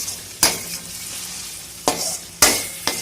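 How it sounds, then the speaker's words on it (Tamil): Tomato pickle fries in a pan with a continuous soft sizzle, broken by four sharp scrapes and knocks of a spoon stirring against the pan. "நல்லா வந்து இன்னும் ஒரு 10 minutes நல்லா ஃப்ரை ஆகட்டும்"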